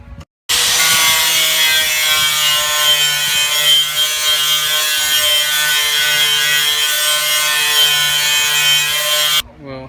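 A grinder shrieks loud and close as it strips durable paint from car bodywork, a sustained high-pitched whine that starts abruptly and cuts off near the end.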